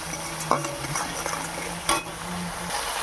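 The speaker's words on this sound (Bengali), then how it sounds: "এবার একটু ভালো করে কষাতে থাকবো মশলাটা" A spice paste for a pointed gourd and prawn dish is stirred and fried in a pan, with a constant sizzle, a few spoon scrapes and knocks, and a steady machine hum running underneath.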